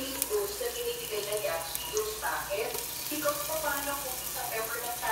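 Garlic frying in a home kitchen pan, a steady soft sizzle running throughout at moderate level, with faint clatter and occasional stirring sounds.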